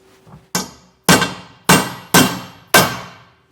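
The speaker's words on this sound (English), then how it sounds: "I'm just going to tap them in place, line up the squares of our carriage bolts." Carriage bolts being tapped into a B&W Patriot 5th wheel trailer hitch head bracket: five sharp, ringing hammer blows at a steady, even rhythm, close and loud with no talking.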